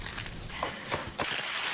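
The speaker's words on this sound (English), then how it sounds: "That's the sound of scrambling eggs, sizzling bacon" Bacon sizzles and eggs scramble in a pan at a breakfast bar, a steady close crackling hiss broken by a few soft scrapes and pops.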